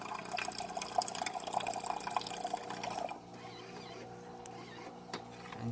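A Jura Impressa J5 espresso machine dispensing hot water, a steady close liquid stream with faint dripping and a hum that drops to quieter trickling partway through.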